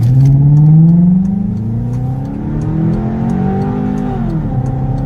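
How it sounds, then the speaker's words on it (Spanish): Volkswagen Passat W8 engine revving up loud and close, pitch climbing smoothly then settling into a steady, slightly wavering hum. "El motor W8 del Passat es una joya compacta y suave que produce un sonido único en la carretera."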